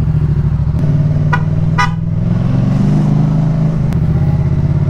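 Loud aftermarket horn on a Yamaha MT-07 motorcycle gives two short honks, the second slightly longer, over a steady idling engine rumble on a coastal road.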